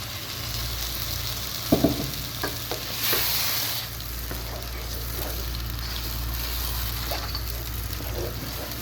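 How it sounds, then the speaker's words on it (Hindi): Mutton korma frying in about half a cup of oil, a steady close sizzle with occasional stirring scrapes and clinks of a utensil against the pot, continuous throughout with no talking. "اچھی طرح اس کی بھنائی کریں گے۔"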